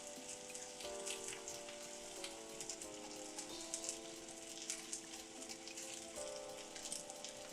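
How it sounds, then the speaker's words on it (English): Pork belly laid on a hot griddle for Osaka-style okonomiyaki, a faint continuous sizzle running beneath soft background music. "I'm going to throw on my pork belly right on top"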